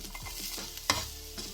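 Ginger and garlic sizzling and frying in a pan, with soft stirring scrapes and a brief clatter midway; steady and close, no voices.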